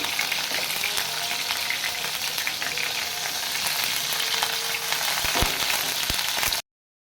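A piece of beef steak sizzles loudly in hot oil in a pan alongside pieces of onion, with a dense, continuous frying crackle and a few sharp pops near the end.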